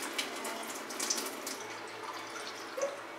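Water runs from a tap into a cooking pan while fried rice is being made, a soft steady trickle with faint splashes, quiet and brief.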